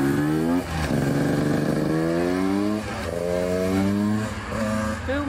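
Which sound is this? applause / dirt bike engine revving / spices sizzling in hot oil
dirt bike engine revving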